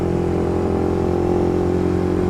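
A Suzuki GSX-R150 sport motorcycle engine drones steadily at close range on a night ride, a constant mid-pitched hum with no pauses or speech.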